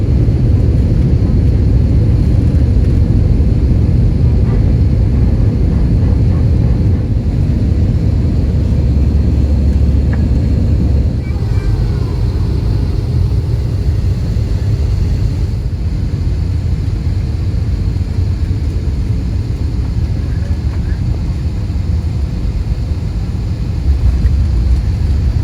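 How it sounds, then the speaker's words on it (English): Inside a passenger airplane cabin on a flight to Charlotte, North Carolina, a steady loud low roar of engine and air noise fills the whole stretch without letting up, with no talking. "So let's get on the plane."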